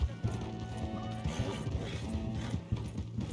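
Horse hooves clop in a steady galloping rhythm in Red Dead Redemption II, close and moderately loud, mixed with rattling tack and background game noise.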